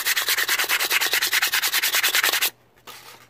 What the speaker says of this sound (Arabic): بعدين حكة خفيف كذا صنفرة خفيفة بس